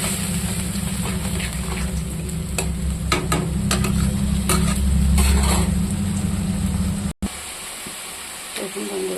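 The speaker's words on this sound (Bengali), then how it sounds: "মশলাটা দিয়ে দিলাম তেলে" Ground spices and green chillies fry in hot oil, giving a constant sizzling hiss with scraping stirs and a low rumble underneath, then a brief cut before the frying carries on.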